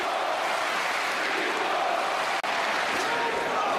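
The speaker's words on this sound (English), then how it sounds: "Crowd chanting, Klitschko," A boxing arena crowd roars and chants in unison for a heavyweight fighter, a loud, sustained mass of voices with no individual words standing out.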